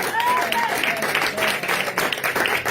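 Worship congregation clapping and cheering for Jesus, a dense steady wash of applause with a few voices calling out and singing over it.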